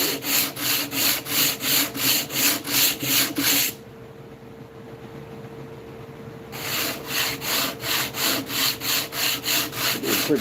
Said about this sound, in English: Let's give it a couple more hits with the Big Grit.